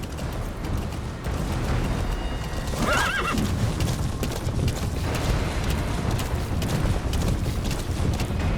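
Horse whinnies and hooves clip-clop in a Metal Gear Solid V open-world scene, a loud neigh rising mid-clip over steady galloping hoofbeats and ambient game noise.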